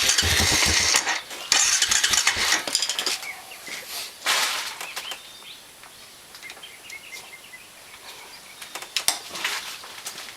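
A Honda Recon 250 ATV with a freshly rebuilt top end and a new clutch is idled up, its engine running loud and rough in bursts before settling to a quieter, steady run. No one speaks.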